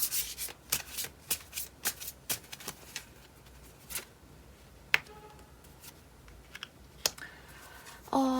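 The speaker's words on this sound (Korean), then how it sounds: "카드를 몇 개 더 뽑아볼게요." Tarot cards are shuffled and drawn, making a string of soft, quick riffling and slapping taps in irregular bursts, fairly close and quiet, with no talking.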